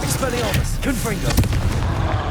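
Confringo blasting spells in Hogwarts Legacy crack and boom in quick, loud bursts amid spell effects and combat noise, with a voice shouting over them.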